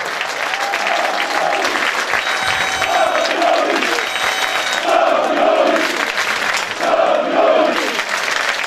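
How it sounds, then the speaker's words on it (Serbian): A stadium crowd at a Serbian Super League football match applauds steadily, a dense continuous wash of clapping with surges of cheering throughout. "Pozdravimo ih aplauzom."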